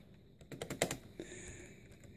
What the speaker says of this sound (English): Keyboard still feels nice to type on.